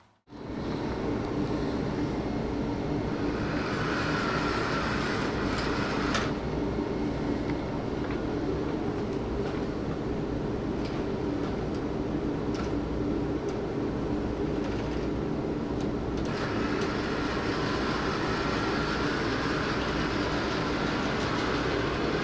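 Model railroad locomotive running along a layout during an operating session, a steady continuous rumble with faint clicking from the track, sustained throughout at moderate volume with no talk.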